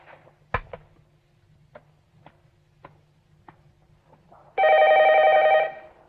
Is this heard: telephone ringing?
yes